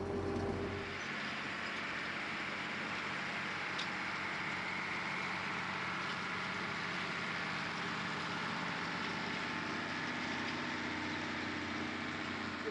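A tractor engine runs steadily for a new baler, a loud, continuous low rumble that starts after a brief moment and holds an even idle throughout, with no talk over it.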